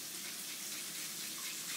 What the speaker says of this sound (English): if you turn the water on next to you on the sink